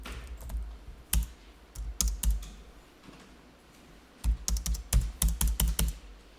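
Fingers type on a computer keyboard, entering data into accounting software. Keystrokes come in quick, close bursts separated by short pauses, with a dense run of clicks near the end.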